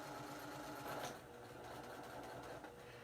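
A sewing machine stitches in reverse along the hem of a T-shirt dress, a steady close whirring mechanical buzz with the needle's fast rhythm running continuously throughout.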